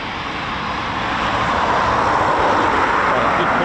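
A Eurofighter Typhoon FGR4 jet arriving at an RAF station, a steady loud broadband roar holding level and swelling slightly over a few seconds, with talk faintly mixed in.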